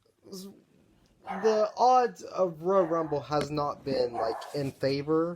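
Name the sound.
dogs barking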